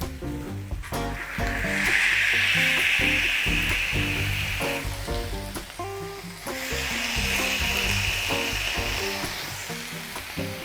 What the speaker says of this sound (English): We'll take that and we'll just smush that right down into the onions.